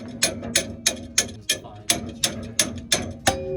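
About ten sharp, evenly spaced hammer strikes, close and steady, ringing metallically with each blow.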